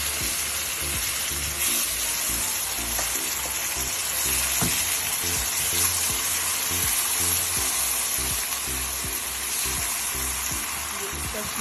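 Suji halwa with sugar being stirred in a hot pan: steady loud sizzling and frying with a scraping stirring rhythm throughout, close up, with faint speech underneath.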